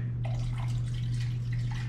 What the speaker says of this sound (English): Now we're going to put the fresh water, the fresh salt water into the tank.